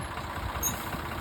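A tractor engine idles nearby on a village farm, giving a steady low rumble with a faint, even knock throughout the short stretch and no talking.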